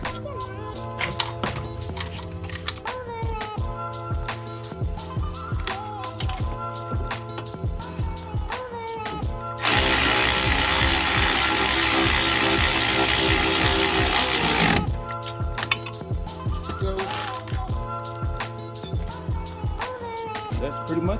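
A ratchet or power tool tightens the tie rod nut on a 2007-2012 Nissan Sentra, with repeated mechanical clicking and a sustained loud whirring burst partway through, close and alone.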